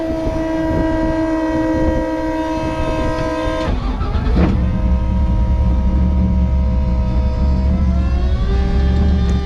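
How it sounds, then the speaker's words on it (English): A lifted hill climb Miata with a 455 hp LS V8 swap drives along, its engine droning loudly and steadily, then the tone shifts partway through to a rougher, deeper roar that holds to the end. "now we're going for a ride in this crazy hill climb monster"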